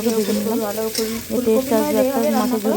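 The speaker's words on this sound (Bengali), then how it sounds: "ফুলকপিগুলো আমার লাল লাল করে ভাজা হয়ে গেছে" Cauliflower florets fry in oil until browned. A continuous close sizzle runs throughout, with a wavering tonal hum riding on top of it.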